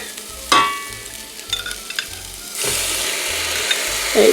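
Tomato sauce sizzles and crackles steadily in a pan at close range while a spoon scrapes and stirs in a few rhythmic strokes.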